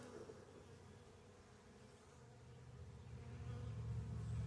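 Honeybees in a package colony's hive, nurse bees tending their queen, make a low, steady, faint hum that swells louder toward the end, with no talk.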